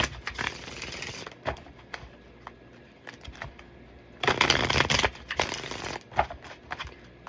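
A deck of tarot cards is shuffled by hand, giving irregular bursts of papery riffling and soft slaps, close and fairly quiet, with one louder flurry partway through.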